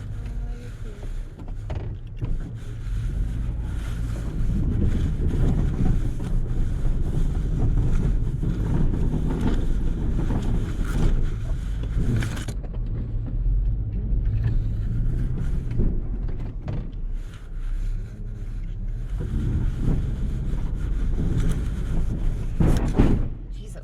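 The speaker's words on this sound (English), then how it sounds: "Oh, plowing's loud." Pickup truck plowing the first snow of 2024 gives a continuous loud, rumbling engine drone with scraping and clunks from the plow, and brief voices in the cab are heard between.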